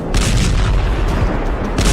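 Fighter jet airstrike explosions on Iranian military sites: a dense, loud rumbling boom fills the whole short stretch, with deep blasts rolling together and no voices.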